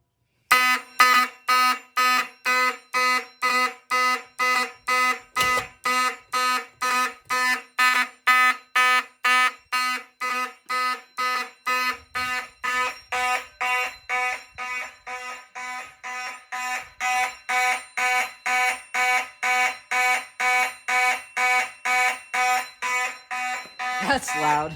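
A fire alarm set off on an F1 GT device during a system test rings as a loud, steady series of rapid repeating horn blasts for the whole stretch, with only brief gaps and no audible talk over it.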